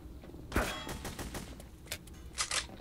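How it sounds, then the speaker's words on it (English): Gunfire rings out in the video game The Hidden as a scattered series of sharp, fairly faint shots at uneven intervals, with one stronger crack early on and a quick pair near the end. "Who keeps shooting me?"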